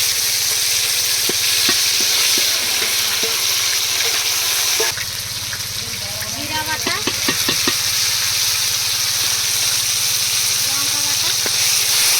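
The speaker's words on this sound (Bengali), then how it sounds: "তেলের মধ্যে আদা রসুন পেস্ট দিয়ে দেবো" Ginger garlic paste frying in oil in a large batch for a village celebration meal, a steady loud sizzle with stirring clatter and a shift partway through as the paste settles in.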